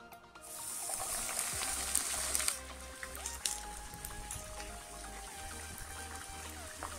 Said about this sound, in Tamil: எண்ணெய் சூடானதும் இதை வந்து டீப் ஃப்ரை பண்ணணும்.